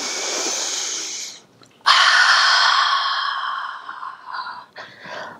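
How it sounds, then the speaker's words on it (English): A person breathes out deeply through the mouth in a long, close breathy rush, then a short pause and a second, longer exhale that tapers off into softer breaths, during a workout. "Out through the mouth. And really exhale deep."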